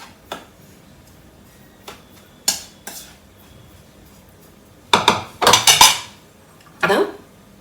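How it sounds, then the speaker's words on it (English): Desiccated coconut and milk powder being mixed in a bowl, with sparse clinks of a spoon against the dish followed by a burst of rapid, loud scraping and clattering strokes near the end, up close and without talk. "mix this all well together"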